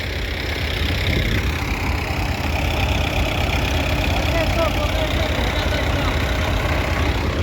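An MTZ tractor engine runs steadily while plowing through snow, a loud continuous low rumble that holds level throughout with no break in the drone.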